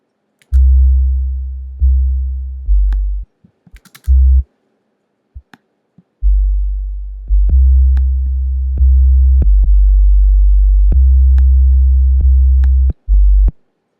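A trap 808 sub bass played from a sampler with a long release, a loud, deep series of sustained notes in a rhythmic pattern, each ringing out and decaying, with brief gaps between phrases.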